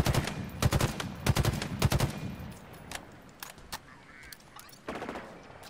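Halo Infinite gunfire rattles in rapid bursts of sharp shots, loud clusters early on, then sparser scattered cracks and another burst near the end.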